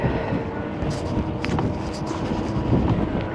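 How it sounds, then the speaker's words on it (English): Strong wind buffets the microphone, a loud, continuous low rumble with gusty swells and no clear voices. "Woo, it's windy."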